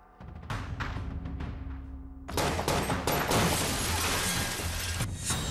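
Gunfire rings out during a late-night police encounter with criminals in Connaught Place, Delhi: a run of sharp shots at first, then a loud, dense burst of rapid firing that keeps going.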